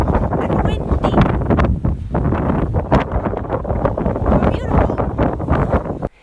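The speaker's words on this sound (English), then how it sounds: "It's so cold and windy." Steady broadband wind buffeting a microphone, loud and continuous, with gusty rumble throughout and a voice talking underneath.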